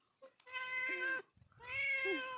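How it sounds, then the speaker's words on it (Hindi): A village cat in a home garden gives two long, clear meows, close to the microphone and separated by a brief pause, with faint background noise and no talking. "यहाँ पर हमारी गांव की बिल्ली बैठी है"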